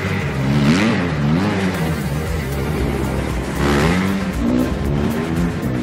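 Two-stroke dirt bike engine at a motocross track, revving in repeated rising and falling bursts, two main surges a few seconds apart, moderately close.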